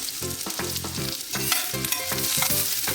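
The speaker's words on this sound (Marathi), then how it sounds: "आता कांदा घालूया बारीक चिरलेला तो पण आपण छान तेलावर परतून घेऊया" Finely chopped onion frying in hot oil over a low flame for fenugreek (methi) bhaji, giving a steady close sizzle with stirring, under tonal background music.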